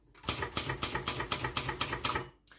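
Silver Reed manual typewriter carriage released and slid along, giving a fast regular run of about eight crisp ratcheting clicks, close and clear, ending in a small knock.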